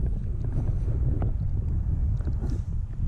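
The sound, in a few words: wind blowing on the water while fishing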